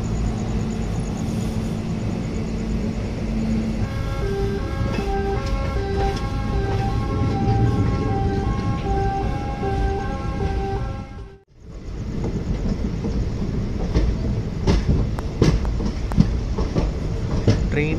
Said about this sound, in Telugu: Train Kazipet junction platform number 1కి చేరుకుంది.